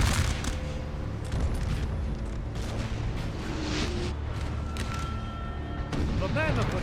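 Scattered musket and cannon fire in a Napoleon: Total War battle at Friedland, 1807, with dull distant booms and crackling shots under steady talk.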